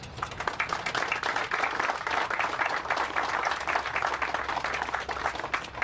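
An audience at an industrial park open-house ceremony claps steadily, a dense roomful of hands applauding for several seconds with a faint murmur underneath.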